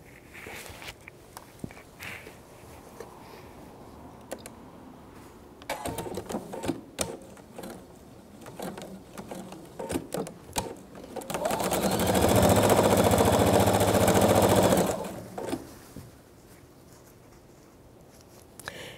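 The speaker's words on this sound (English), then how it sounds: "So now we'll sew the horizontal rows, or the vertical, whichever you'd like to call them." A sewing machine stitches horizontal rows of a jelly-roll strip quilt, the motor whirring in short intermittent bursts before one steady, loud run of several seconds, then stopping, with light handling noises around it.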